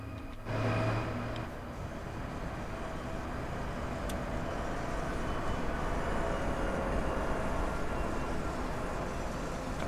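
A DB BR 401 ICE 1 high-speed train in Train Sim World 5 runs on the Frankfurt S-Bahn network, giving a steady, continuous rolling rumble with a faint high whine, holding an even level throughout with no talk.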